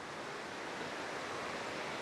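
Water pours steadily over Cane Creek Cascade in Fall Creek Falls State Park, a dense, continuous rushing wash heard at moderate distance with no pauses or voices.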